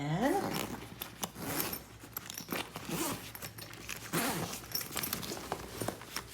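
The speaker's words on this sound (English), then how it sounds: "has a mesh pocket right here with a zipper" A zipper on the zippered mesh pocket of a Vera Bradley backpack is pulled in a few short, scratchy runs of rasping strokes, close and fairly quiet, alone without talk.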